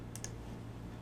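Two quick, soft mouse clicks in close succession near the start, then only a faint low hum in a quiet room.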